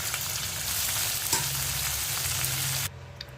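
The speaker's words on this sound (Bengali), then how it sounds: "দেখুন মাছগুলো আমার সব ভাজা হয়ে গেছে।" Small oily mowa fish frying in a pan give a steady, close hiss of hot oil that runs unbroken for about three seconds and then cuts off abruptly.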